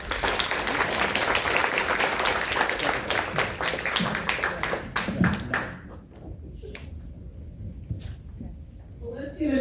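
Audience at a town hall event clapping to welcome a speaker, loud dense applause that thins into a few scattered claps and fades out, then a voice begins at the end.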